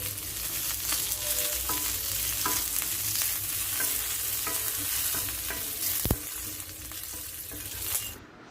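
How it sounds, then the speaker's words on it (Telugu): Curry leaves fry in hot oil with a loud, steady crackling sizzle and some stirring, plus one sharp click partway through. "ఇప్పుడు కొంచెం కరివేపాకు ఫ్రై చేసుకున్నామండి."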